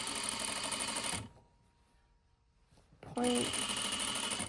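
A sewing machine runs in a fast, loud whirring burst while stitching a dress slit, stops for about two seconds of near silence, then starts again. A voice speaks briefly.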